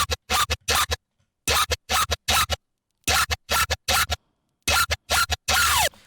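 A second lead synth in a dubstep drop, crunchy and muddy, plays loud, choppy bursts of stuttering notes in irregular rhythmic groups separated by short silences, ending with a longer sweeping note.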